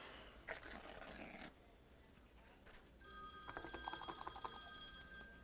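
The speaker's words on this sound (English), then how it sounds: "I have a phone call." A telephone rings in a room, its bright electronic tone starting partway through after some scraping and shuffling, continuing steadily at moderate volume.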